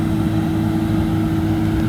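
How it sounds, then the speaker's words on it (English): A Tier 3 diesel engine on farm machinery harvesting soybeans in Brazil runs with a loud, steady low rumble and drone, close and unbroken. "that is the sound of a Tier 3 motor, and it sounds glorious"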